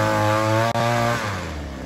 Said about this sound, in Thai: คือเครื่องเจาะหลุมของเรานะคะ